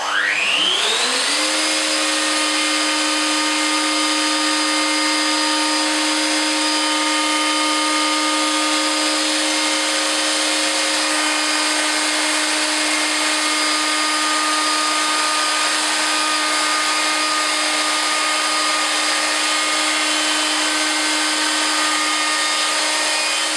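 A Festool OF 2200 router fitted with a beading cutter and set in the plunge position spins up to a loud, steady high-pitched whine and holds it without a break, close by and with no voices.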